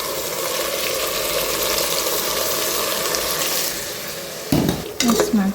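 Mint paste being stirred into a sizzling fried mixture in a pan, with steady frying hiss and scraping stirs throughout, then louder clattering utensil strokes near the end; no talking.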